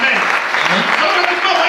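A church congregation claps in a brief burst of steady, dense applause, mixed with cheering voices and the preacher's amplified speech over the top.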